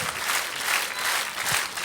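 A dense, steady burst of audience applause follows a televised song performance by a duo, sounding like a large crowd clapping continuously for about two seconds without talk.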